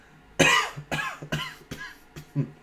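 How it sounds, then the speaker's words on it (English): Several harsh coughs in a row, close and loud, with brief pauses between bursts. "This cough is killing me."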